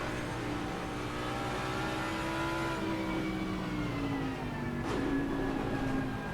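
Race car engines in Assetto Corsa Competizione at the Zolder circuit, a continuous high revving whine with gear-shift pitch drops and a car behind, steady and fairly quiet, no voice.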